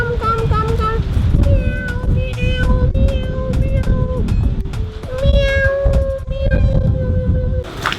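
Street cats in snowy Istanbul meow repeatedly, a series of tonal cries over a busy rumbling street background, with some talk mixed in.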